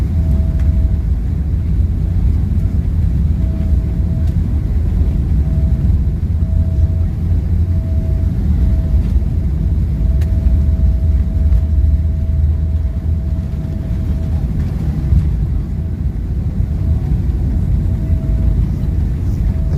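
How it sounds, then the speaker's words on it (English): Cabin sound of an Emirates Boeing 777 landing at Dubai airport: a loud, steady low roar of engines and rushing air with a faint constant tone, continuous and unbroken throughout. "Landed safely, just always gives a little bit of a bump when you first touch down."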